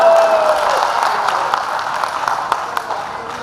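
Audience at a Hindi poetry recital at the Meerut Nauchandi fair claps loudly and continuously, a dense, steady wash of applause close by.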